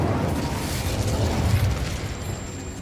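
Incendio fire spell cast in Hogwarts Legacy: a steady, loud whooshing burst of flame with crackling, booming texture, sustained throughout with no talk.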